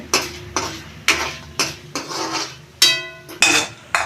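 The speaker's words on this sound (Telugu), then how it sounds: "ఇలా తీసేసుకోవాలి గిన్నెలో తీసుకుంటున్నాం" A metal spoon scoops fried, browned spinach and spices out of a pan into a bowl, giving about nine sharp clanks and scrapes at an uneven rhythm, close and clear, with no talking.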